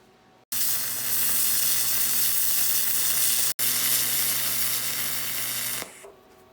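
Welding passes on a DIY shop gantry crane: a loud, steady crackling hiss runs in two long bursts separated by a brief pause, then stops, leaving a faint hum.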